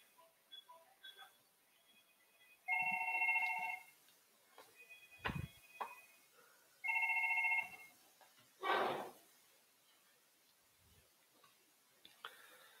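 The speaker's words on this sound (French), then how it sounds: "Je vais appeler ce numéro-là et je vais voir si mon téléphone IP il va sonner." An IP phone ringing on an incoming VoIP call: two short electronic ring bursts several seconds apart, fairly quiet and close, mixed with scattered clicks and small handling knocks in a quiet room.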